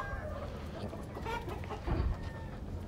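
Giro hens on a farm clucking softly in the background, faint and muffled under steady ambient noise with a brief low thump near the end.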